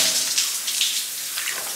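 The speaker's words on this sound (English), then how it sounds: "Unaweza ukatumia hii telephone shower tunaita hii hapa." Water pours steadily from a handheld telephone shower in a bathroom, making a close, continuous hissing spray with small splashing variations and no speech.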